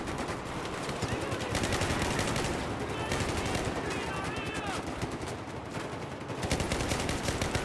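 Rapid automatic gunfire in the Battlefield 4 multiplayer game, sustained bursts and shots filling the whole stretch with dense crackling, with a voice talking intermittently over the battle.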